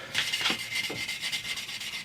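Soft scratchy rubbing of fine 1200-grit sandpaper on electric guitar frets, a few short strokes against a hard surface, close and fairly quiet.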